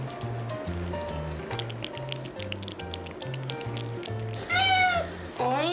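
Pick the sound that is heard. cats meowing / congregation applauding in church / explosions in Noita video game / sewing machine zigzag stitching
cats meowing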